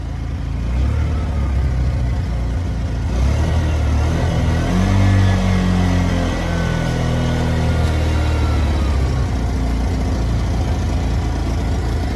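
An auto rickshaw's small engine runs close by for several seconds, idling with a steady rumble and rising briefly into a rev midway before settling again.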